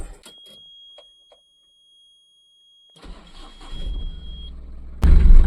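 An Ashok Leyland Dost light truck, fresh from a clutch cable repair, cranks briefly after a beeping chime, then its engine catches and settles into a loud, close diesel idle.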